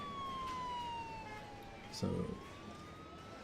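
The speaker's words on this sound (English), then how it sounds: "Ambulance is on the way." Ambulance siren in the Emergency 4 video game with a Los Angeles mod, a steady wailing tone sliding down then up, continuous through the clip at moderate level, with a brief voice and a burst of other game noise midway.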